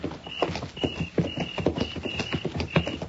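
Horses' hooves clip-clopping in a Gunsmoke radio drama, a steady rhythmic series of close hoof strikes with a faint tonal hum behind them.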